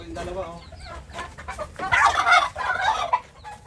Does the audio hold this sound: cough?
no